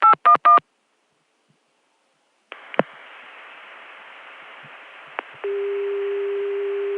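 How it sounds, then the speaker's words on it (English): Touch-tone dialing on a 1981 CCSA telephone network: three quick DTMF tone bursts, then a long stretch of line hiss broken by a couple of clicks, ending on a steady held tone. "will give you a CCSA dial tone if you dial 359-1811, but the connection is decent and touch tone works"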